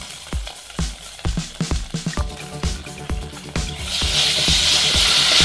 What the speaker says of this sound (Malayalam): കുരുമുളക് പൊടി ചേർത്തിട്ട് ഞാൻ നല്ല പോലെ വഴറ്റിയിട്ടുണ്ട്.